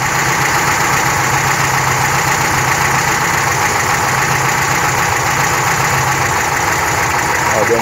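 Engine of a 1972 VW Variant with Solex 35 mm carburetors idling, a steady loud mechanical chug with a rhythmic low throb that stays even throughout.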